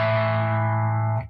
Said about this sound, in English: with a little bit of distortion and a lot of volume, those chords tend to sound really nice